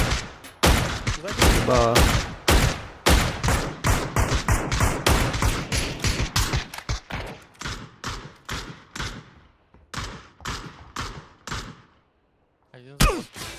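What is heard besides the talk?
gunfire from PUBG video game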